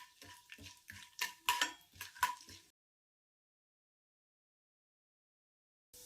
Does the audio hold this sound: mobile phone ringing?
no